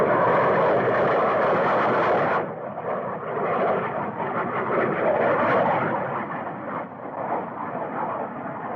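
Jet fighter planes roar overhead in a 1952 black-and-white invasion film, a loud, sustained engine rush that drops off abruptly partway through and then carries on more muffled.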